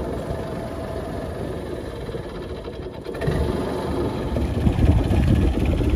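Fishing boat engine idling while the boat backs up during ray-net fishing at sea, a low steady chugging that grows slightly louder and rougher in the second half.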